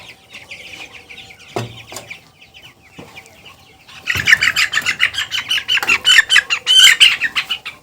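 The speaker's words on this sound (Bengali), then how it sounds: "এবার একটা মুরগি ধরে নি" Broiler chickens in a farm cluck and squawk while one is being caught, with sparse calls and thumps at first, then a loud burst of agitated, rapid clucking.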